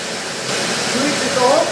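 A Parkside PWD 30 B1 wet and dry vacuum cleaner runs with a steady broadband whooshing roar that swells slightly after it starts, while a person speaks briefly over it.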